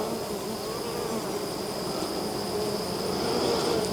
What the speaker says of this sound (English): Let me move all these bees.